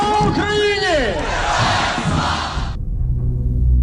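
A large crowd chants and cries out loudly together, a dense roar of massed voices that cuts off abruptly near the end, leaving only a low hum.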